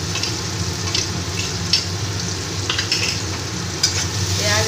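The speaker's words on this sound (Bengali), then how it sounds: "পেঁয়াজ আর রসুনটা একটু ভালো করে ভেজে নেব।" Onion and garlic paste frying in a pan for a prawn and taro-stolon dish: a steady, close, dense sizzle with occasional stirring scrapes and no talk.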